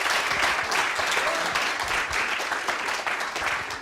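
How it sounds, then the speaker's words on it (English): Audience applause greets the first contestant at a research improv show, a dense, even roar of clapping from a room full of people that holds steady from start to finish. "Give them a round of applause."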